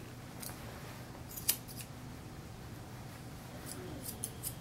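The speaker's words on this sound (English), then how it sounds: "I'm kind of pushing and pulling here with my scissors, the hair." Scissors snipping through a senior poodle's hair during grooming, a few faint, sparse crisp snips spaced apart over a steady low background hum.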